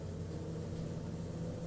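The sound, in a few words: bus engine rumbling, from video game Everlasting Summer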